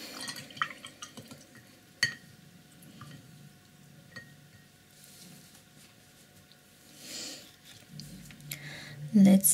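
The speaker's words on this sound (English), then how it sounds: "Wash our brush." A paintbrush is swished and rinsed in a water jar between strokes of one-stroke painting, giving soft drips, splashes and a faint glass clink, fairly quiet and close, with a louder rinse near the end.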